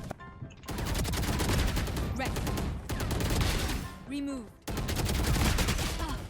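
Sustained rapid automatic gunfire from the tactical shooter video game VALORANT, long loud bursts broken by brief gaps, with excited voices talking over the shooting.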